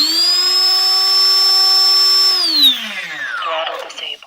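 An RC model's electric motor, armed through a FrSky Taranis radio running OpenTX, whines at a steady high pitch with strong harmonics for about two seconds. It then spins down in a falling glide and fades into faint clicks.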